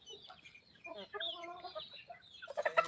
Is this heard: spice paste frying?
no